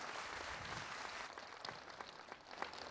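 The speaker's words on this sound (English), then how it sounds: "A round of applause." Applause from an audience after Barack Obama's speech at the Sauti Kuu centre launch in Kenya, a dense, steady wash of many hands clapping that carries through the whole moment without pause.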